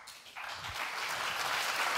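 Audience applause at the close of a project presentation at a youth hackathon in Munich, beginning abruptly after a quiet moment and building into steady, moderately distant clapping.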